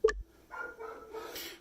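A dog lets out one short, sharp bark in the background, followed by quiet rustling and faint breathing.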